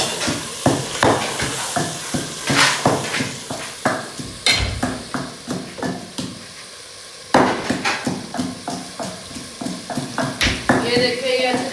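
Chicken frying in a handi pot alongside rhythmic pounding in a kundi, with repeated sharp knocks and scraping clanks over a sizzling background while a person talks.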